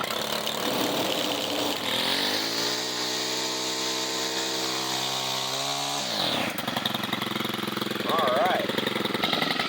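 STIHL FS 91 R string trimmer engine revving with a steady buzzing drone for about four seconds, then dropping sharply to a lower idle, close and fairly loud, with a brief voice near the end.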